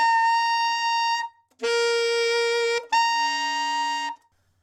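Three sustained, bright alto saxophone altissimo notes played alone, separated by short pauses, each held clean and steady with a strong harmonic tone.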